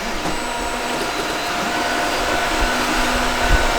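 Geeetech A10T three-color mixing 3D printer homing its axes, a steady motorized whir with a faint tonal hum running continuously from start to finish, nearby and moderately loud.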